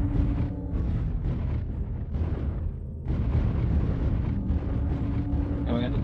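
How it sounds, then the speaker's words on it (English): An artillery strike in a video game sends dense, continuous booming explosions rolling together as a loud, rumbling barrage with a brief dip midway. "Artillery strike online."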